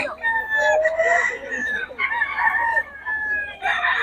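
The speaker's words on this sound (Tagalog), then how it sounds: "Ang gulo ng manok, ah." A rooster crows loudly and repeatedly up close, with harsh drawn-out calls overlapping other chicken squawks and clucks in the background.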